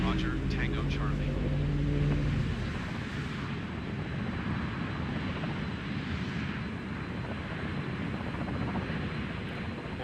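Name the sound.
airplane engine in video game Microsoft Flight Simulator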